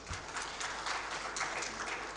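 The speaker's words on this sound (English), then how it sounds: "So a round of applause for them." An audience at an international arthroplasty conference in Pakistan applauds steadily, a faint, even wash of clapping heard at a distance throughout.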